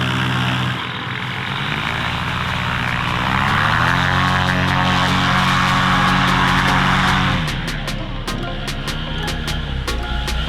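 A Dudek paramotor engine drones steadily at a high idle, its pitch wavering and dipping partway through, with a faint rhythmic ticking near the end.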